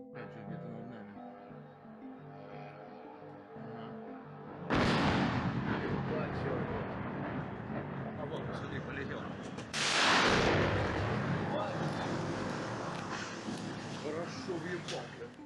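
Two heavy blasts from a Ukrainian drone strike on Moscow hit about five seconds apart, each a sudden loud roar that rumbles and fades slowly. Faint music and voices run beneath before the first blast.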